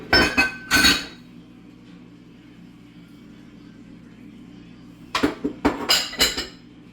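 Broccoli tipped into a pan while cooking seafood pasta, heard as a few sharp clinks and clatters of utensil against cookware at the start and again near the end, with a quiet hum in between.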